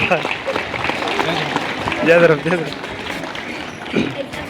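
Crowd applause at a political rally with a member of parliament in Lohardaga: sustained clapping that swells in the middle, heard together with someone speaking loudly over it.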